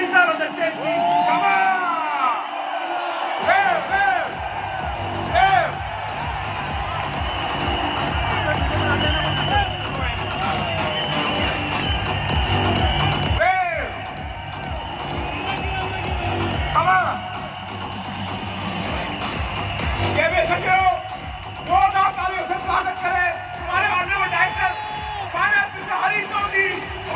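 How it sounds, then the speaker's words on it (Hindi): A large audience at an anniversary celebration stage event keeps up loud, sustained clapping with whoops and cheers, while an amplified voice talks over the crowd noise throughout. "जोरदार तालियों से स्वागत करें"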